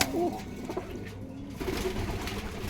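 Imported pigeons cooing in a loft, with soft, low, rolling coos that repeat close by over a faint background murmur.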